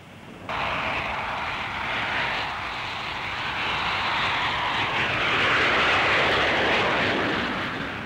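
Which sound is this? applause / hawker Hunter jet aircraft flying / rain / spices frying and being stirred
hawker Hunter jet aircraft flying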